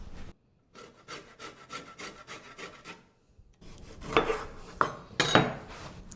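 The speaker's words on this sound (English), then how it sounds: "I always like to roll my limes and loosen up those juices." Limes rolled firmly on a kitchen counter in a home canning kitchen, giving soft repeated rubbing and knocking sounds, quieter at first then louder with a few sharper thumps near the end.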